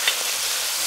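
Chili bean paste, bird's eye chilies and pickled chilies stir-fried in a hot wok, giving a soft steady sizzle with two brief scraping clicks of the spatula near the start and end.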